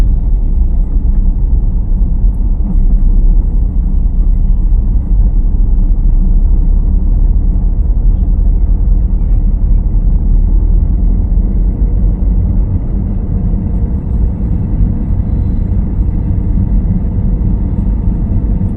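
A car pulling away during a driving lesson as the clutch is released, giving a steady, loud low engine rumble throughout with no talk.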